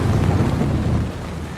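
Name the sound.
thunderstorm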